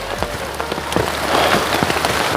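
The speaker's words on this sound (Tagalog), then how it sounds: "Ganyan, pabusod-bugsod ang ulan mga kabayan." Steady rain on a mountain during a typhoon, in gusts, pattering on a surface with scattered louder drops tapping through a continuous wash of noise.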